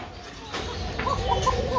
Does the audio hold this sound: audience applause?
no